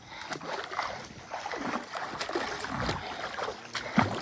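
Water splashes and sloshes nearby in a resort swimming pool in irregular bursts, with faint voices in the background.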